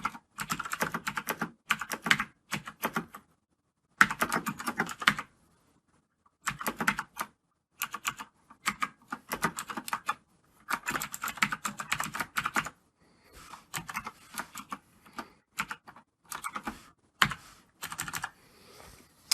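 Code typed on a computer keyboard, a close, crisp clatter of keystrokes in rapid bursts separated by short silent pauses, with no voices.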